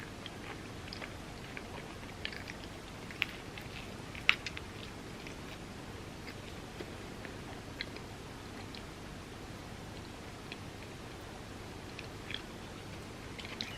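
Faint, quiet chewing of a vegan loaded grilled cheese sandwich, with scattered soft crunchy bites over a low background hiss and no talking.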